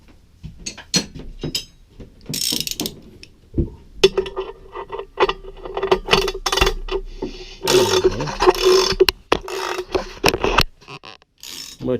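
A Mopar 360 crankshaft assembly is turned by hand in an engine block during a rebuild, producing close, irregular mechanical clicks, ratcheting and metallic rubbing with bursts of grinding, no talking.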